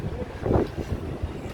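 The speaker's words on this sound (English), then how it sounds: "It's just too windy, innit?" Strong wind buffets the microphone on an outdoor street, with a low, uneven rumbling roar that swells and fades in gusts.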